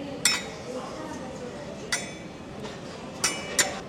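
A utensil scrapes and knocks cooked rice out of a Korean stone pot, with four sharp clinks spread unevenly over a low background of room noise and faint voices.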